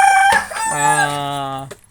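A rooster crows once, a loud drawn-out cock-a-doodle-doo with a rising start and a long held tone, close by and with no talking.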